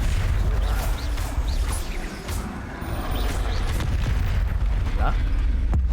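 Spell explosions from the Bombarder curse go off in Hogwarts Legacy as heavy, rumbling booms and crashes. They come in bursts over a dense layer of game noise, with a player's voice talking through them.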